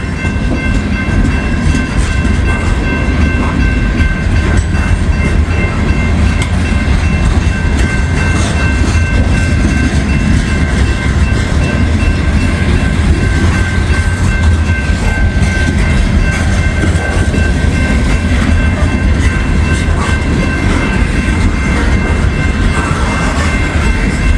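Loaded coal train cars roll past in a continuous loud, steady rumble with a grinding metallic hum and faint wheel clatter, holding constant throughout.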